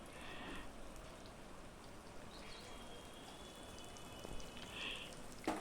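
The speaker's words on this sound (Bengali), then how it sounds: "এবার দেখো এই পেঁয়াজটা আর রসুনটা তেলের মধ্যে আমি ভালো করে ভেজে নেব।" Onion and garlic fry in oil in a faint, even sizzle resembling light rain, with a few soft clinks and a thin tonal whine partway through, quiet and without talk.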